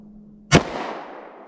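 A single sharp semi-automatic pistol shot firing Armscor 180 grain ammunition, loud and close, with a long reverberant tail trailing off after the blast.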